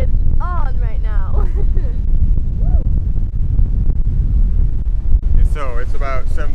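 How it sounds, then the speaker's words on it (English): Strong wind buffets the microphone on a boat off the British Virgin Islands, gusting in a steady loud roar while a voice calls out over it at the start and end. "Woo, the wind is on right now."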